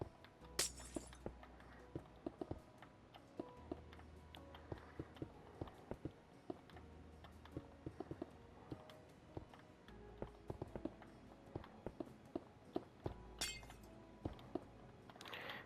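Red glass blocks are placed one after another in Minecraft, making a series of short, crisp glassy clinks and taps in an irregular rhythm, with a couple of brighter shattering bursts along the way.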